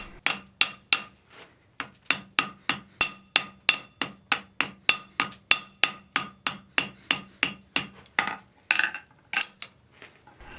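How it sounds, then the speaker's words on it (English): Hammer forging a scarf on an anvil block during a forge weld, a steady run of about two dozen sharp, ringing metallic strikes at an even pace, close and loud. "here I'm using an anvil block to form the step on the scarf"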